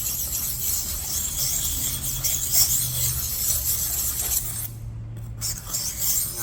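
A knife blade being sharpened to push the burr over, a steady gritty rasp of repeated strokes close up, with a brief pause near the end; no talk.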